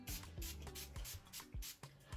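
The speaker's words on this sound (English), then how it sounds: "Spray the hair." A synthetic wig gets sprayed with a spray bottle before straightening: a series of short, soft hissing bursts at a steady pace, fairly faint and close.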